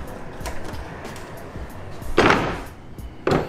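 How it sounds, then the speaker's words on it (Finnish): A hotel room door in a pricey hotel is pushed fully open: a few light knocks and rattles, then two louder thumping swishes of the door moving, with no talking. "Mutta työnnän tästä ovi ihan kokonaan auki."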